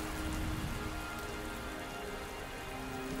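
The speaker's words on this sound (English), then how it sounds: "During the rainy season, most of the rainwater runs straight off the hard-packed earth." Steady rain falls on hard-packed earth in the rainy season, a dense, continuous patter and hiss at even loudness throughout, with no voices.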